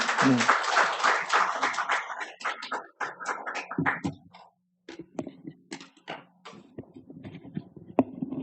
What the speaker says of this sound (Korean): 자, 목사님 박수로 환영하겠습니다.